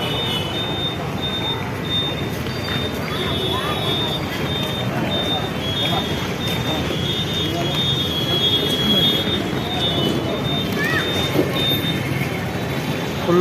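Trains pull into Kacheguda railway station amid crowds near the main entrance, a loud sustained rumble with metallic wheel squeal and a steady high whine throughout.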